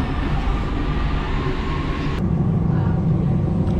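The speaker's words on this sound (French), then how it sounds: "je suis dans le RER de Charmes" Riding inside a moving RER suburban train, a steady low rumble and rattle of the carriage fills the clip, with a brief shift in tone partway through as the noise continues.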